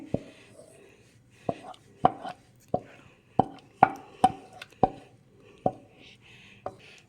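Knife chopping Bombay Karachi halwa on a ghee-greased plate, about ten sharp, close taps spaced irregularly, loud against a quiet background.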